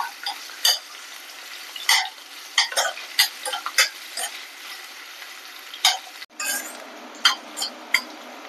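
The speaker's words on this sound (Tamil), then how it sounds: "இப்போ வந்து நம்ம அரிஞ்சு வச்ச ஆனியனை சேர்த்துக்கலாம். இது நல்லா ஃப்ரை ஆகணும்," Chopped onions fry in oil for a paneer gravy, with a steady sizzling hiss broken by sharp spoon-against-pan clinks and scraping as they are stirred at close range.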